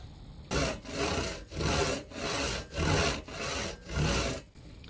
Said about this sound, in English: making nice and smooth cuts across the top here to broaden it in